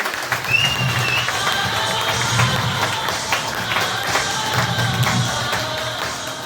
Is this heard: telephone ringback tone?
no